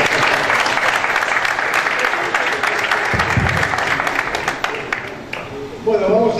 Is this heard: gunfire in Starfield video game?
no